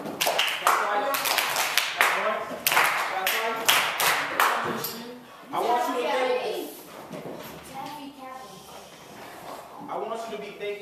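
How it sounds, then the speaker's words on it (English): Classroom children clap together in short rhythmic groups, sharp near claps falling in singles and pairs, while an adult voice talks over and between them. "Clap once, clap twice, clap once, clap twice"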